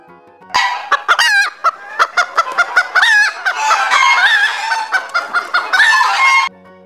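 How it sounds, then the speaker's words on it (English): A hen clucks and squawks loudly and close up in a run of repeated, rising calls, with no voices over it. "H for hen"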